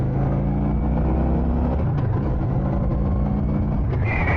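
A motorcycle with a stock exhaust is revved in neutral, its engine droning loudly and close at a steady pitch before easing back and rising again near the end, with no talking.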